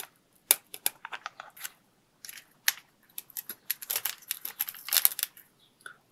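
Snipping along the cut line of an RC plane, a small E-flite UMX Ultrix foam model, with quick bursts of close, crisp cutting clicks in irregular clusters and brief pauses between them.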